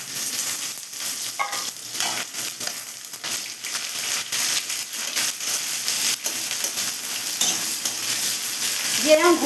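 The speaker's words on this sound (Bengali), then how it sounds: "হলে একটু পেঁয়াজ দিয়ে দিলাম। পেঁয়াজ দিলাম।" Chopped onion sizzles and fries in hot oil with whole cumin seeds for a Bengali ghugni, a steady close crackle with occasional stirring clinks, no talking.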